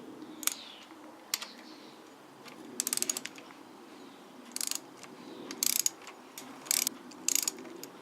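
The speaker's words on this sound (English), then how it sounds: "you're undoing that bolt" A ratchet undoes a bolt to free a part, producing several close bursts of rapid metallic clicking separated by short pauses over a quiet background.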